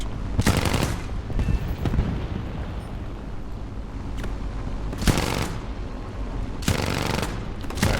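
Aircraft cannon fire in the air combat game War Thunder from a Pallier's D.510 plane, loud sharp bursts repeating several times over a steady engine drone.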